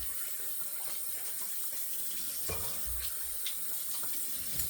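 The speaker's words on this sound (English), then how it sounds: "we'll rinse off the razor. We'll rinse off the face and the shirt." Tap water runs steadily into a sink as a razor is rinsed during a shave, a continuous close hiss and splash with faint shifts in flow and no talking.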